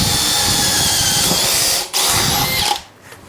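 Makita 40V XGT hammer drill boring with a half-inch bit, a loud steady high whine that cuts out briefly near two seconds, resumes, then stops, leaving quiet.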